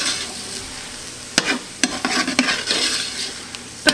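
Onions and minced garlic heat in a pot with a low sizzle while a spoon stirs, clinking and scraping against the metal in a few quick strokes.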